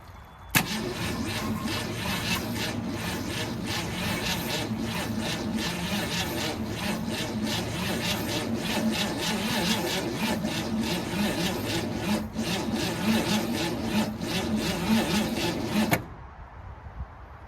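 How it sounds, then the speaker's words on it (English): An old Ford Falcon that sat for 46 years cranks slowly, its starter grinding in a steady, labored churn for about fifteen seconds without catching, then stopping abruptly and leaving near quiet. "Turning over pretty slow."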